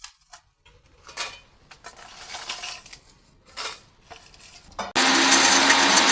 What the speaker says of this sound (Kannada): ಇದನ್ನು ಈಗ ಮಿಕ್ಸಿ ಜಾರಿ ಪುಡಿ ಮಾಡಲಿಕ್ಕೆ ಹಾಕ್ಕೊಳ್ತಾ ಇದ್ದೀನಿ